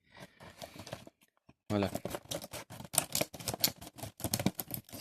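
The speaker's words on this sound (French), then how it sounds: "Akuma maintenant de Street Fighter 4, que je vais déballer." Unboxing a Street Fighter 4 Akuma figure, with crisp crinkling and tearing of packaging in close, sharp bursts after a short pause, while someone speaks briefly.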